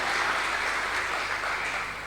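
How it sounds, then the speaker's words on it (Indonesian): A church congregation applauds at a worship service, a dense, even wash of many hands clapping together that fades slightly near the end, with no talk over it. "Tepuk tangan untuk Tuhan,"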